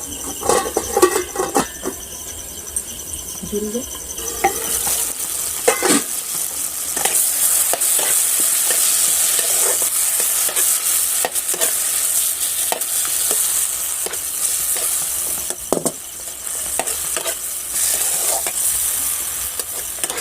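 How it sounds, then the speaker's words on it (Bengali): Tomatoes with salt fry in a pan with a continuous close hiss and sizzle, punctuated by scrapes and clicks of stirring, alone without any talking. "টমেটোগুলো দিয়ে দিয়েছি লবণ দিয়েছি এবারে হালকা একটু ভেজে নেব"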